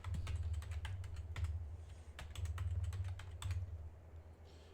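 Password being typed on a computer keyboard while setting up a login, with rapid, uneven key clicks in short bursts over a steady low hum, close and fairly quiet.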